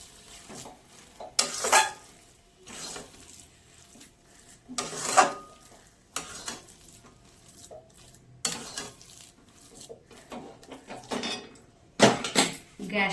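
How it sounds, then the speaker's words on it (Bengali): A utensil stirs a vegetable mixture with ghee in a pan, making close, loud scraping bursts at irregular intervals with quiet gaps between them and a little metallic clatter. "ঘি দিয়ে ভালো করে নেড়ে"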